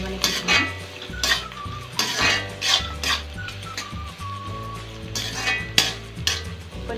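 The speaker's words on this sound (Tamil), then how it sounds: "வெங்காயம் கொஞ்சம் பொன்னிறமாக வரணும். அது வரைக்கும் நல்லா வந்து வதக்கிக்கணும்." Onions frying in a pan for Tamil fish curry (meen kulambu), stirred with a metal spoon: repeated scraping clinks against the pan over a soft sizzle, close and fairly loud, with no talking.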